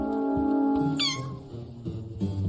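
A kitten meows once, a rising-then-falling cry in a Kannada-dubbed Heidi cartoon, set over a steady background music bed.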